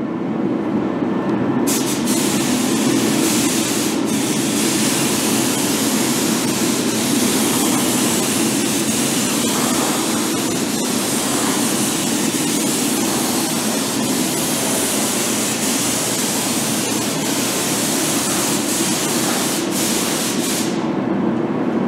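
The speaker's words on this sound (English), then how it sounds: "I'm going to spray this with just make it look like it's sprayed with undercoat" A steady, loud hiss of a spray gun applying metallic paint to a Ford Bronco dashboard runs continuously, broad and unbroken, with a brief quieter gap near the end.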